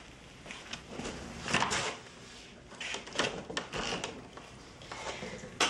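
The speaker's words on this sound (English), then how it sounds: "This door sticks." A sticking door is tugged open in a series of uneven scrapes, rattles and thumps, the last one loud and close, with wind in the background.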